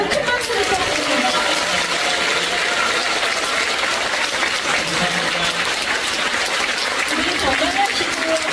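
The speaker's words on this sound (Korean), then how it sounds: "여러분 큰 박수를 부탁드립니다" Audience applause fills the room at a Catholic priest's sermon event, a steady, dense wash of clapping that holds at an even level from start to finish.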